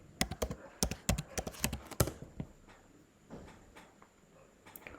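Fast typing on a computer keyboard at a conference talk, a quick burst of crisp, close key clicks for about two seconds, then a few scattered taps fading into faint room noise.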